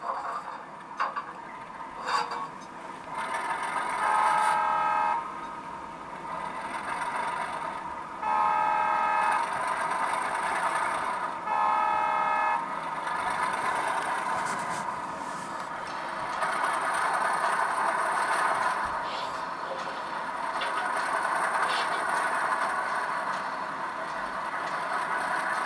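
An HO-scale model locomotive runs steadily with a soft motor hum while its onboard sound system gives several short horn toots at intervals, heard from a lapel mic at moderate distance.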